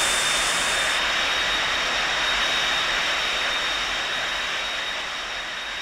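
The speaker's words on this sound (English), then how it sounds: "I mean, it's a loud airplane, so that's to be expected." Boeing 727 jet engines roar loudly and continuously while the airliner sits at the stand in the X-Plane 11 flight simulator, with a steady high whine running over the broadband rumble.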